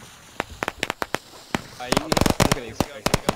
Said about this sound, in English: let's turn around and watch our awesome explosion